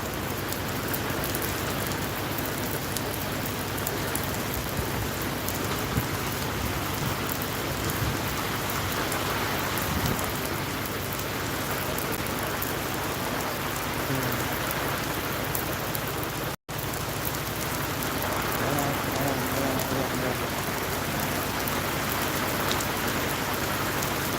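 Heavy rain pours down steadily for the full length, a dense, unbroken hiss of drops hitting surfaces nearby, with no voices and only a momentary break near the end.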